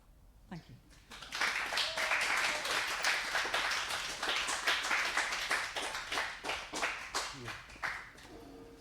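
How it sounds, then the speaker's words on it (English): An audience applauds for guest poet Hannah Stone at a poetry reading, with a burst of many hands clapping, dense and steady, then thinning into separate claps toward the end; a voice is heard briefly at the start. "Can I have a round of applause for Hannah Stone, please?"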